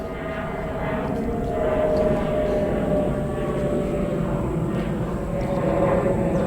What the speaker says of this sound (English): Spy planes are out again